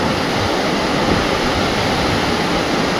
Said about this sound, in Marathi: एकदम पुलाच्या कडेलाच तो धबधबा आहे.